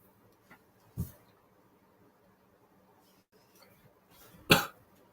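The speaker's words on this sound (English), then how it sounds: "I have an ugly cough this morning." A person with an ugly morning cough lets out two short, sharp coughs, a smaller one near the start and a louder, harsher one toward the end, in an otherwise quiet room.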